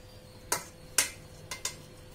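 White radish pieces, cut and cleaned, drop into a cooking pot for an OPOS paleo radish masala curry, making four short clattering thuds spaced across about two seconds with no talking.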